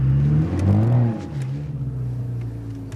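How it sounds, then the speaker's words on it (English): Ford Fiesta ST on a track performing a 180-degree e-brake turn in first gear, the engine note rising and falling loudly up close, then settling into a steady lower hum. "this is the 180-degree e-brake turn"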